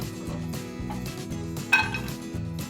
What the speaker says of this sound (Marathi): आता एका कढईमध्ये आपण जे ड्रायफ्रुट्स आहेत ते भाजून घेऊया सगळ्यात आधी आपण घालूया बदाम काजू